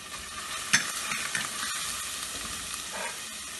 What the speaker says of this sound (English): chili powder, and turmeric. Fry this well.